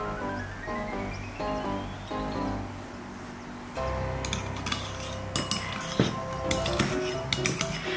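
A spoon scrapes and clinks against the inside of a cup, the scraping growing busier and sharper in the second half, with sustained musical tones underneath throughout.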